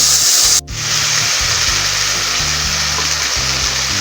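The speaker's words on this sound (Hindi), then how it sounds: "अभी इसको हमने फ्राई करना है इसके अंदर।" Red chili and turmeric powder fry in hot oil in a pan for baingan bharta, a loud continuous close sizzle with a brief dip and low clinks of stirring, no voices.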